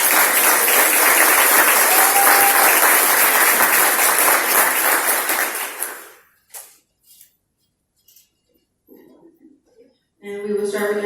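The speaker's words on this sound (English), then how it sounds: "so that we can give you a round of applause" A room at a school board meeting breaks into sustained applause, loud and dense for several seconds before tapering off into quiet, followed by a few faint sounds and a voice starting to speak.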